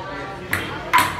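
Ping pong ball struck during a casual table tennis game in a church, two sharp light clicks about half a second apart, close and bright over a background of room noise.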